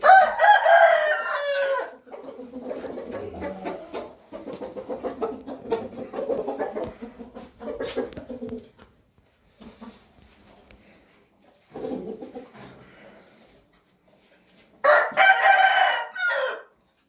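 Roosters crow in turn, loud, drawn-out cock-a-doodle-doos with one starting strong and another closing the span, separated by quieter stretches of clucking and rustling farm sounds.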